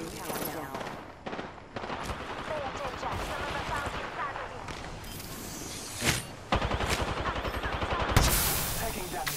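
Rapid bursts of gunfire from the video game Apex Legends, loud and dense, with repeated shots, bangs and impacts throughout and a heavier blast near the end, mixed with game audio.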